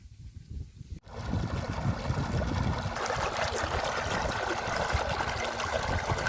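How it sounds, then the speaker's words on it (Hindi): Water rushes from a burst irrigation pipe in a rural Punjab field, a steady loud gushing wash that starts abruptly after a brief quieter moment and continues without talk. "यहाँ से पाइप फट चुका है, पानी जो है बाहर निकल रहा है।"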